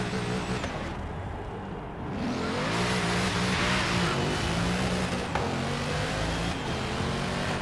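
Sports car engine in the Forza Horizon 3 racing game, revving and accelerating steadily with a loud, continuous tone that rises and shifts through gears, near and alone without talk.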